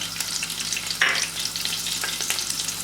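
Green chillies fry in hot oil in a karahi, with a steady crackling sizzle and a brief brighter burst as they hit the oil, close and without talk.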